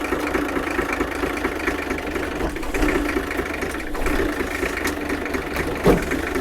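Old abandoned Dodge truck left for years in a French wood, its engine running at a steady rough idle with a continuous low rumble and faint knocking, close by.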